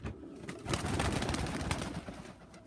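Pigeons coo in a lit loft, soft repeated low throaty calls from several birds close by, with faint rustling and no talking.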